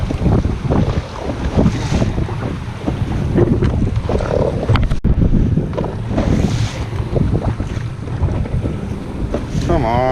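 Strong wind roars steadily across the microphone while bass fishing from a boat on open water, with faint water wash underneath and buffeting gusts throughout.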